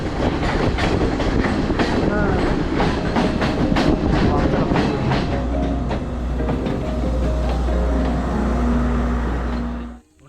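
A train runs on rails in Sri Lanka on the way to Galboda Ella. Loud rhythmic clickety-clack of wagons over the rail joints, then a steady low rumble as it rolls on. Faint voices sit beneath the noise.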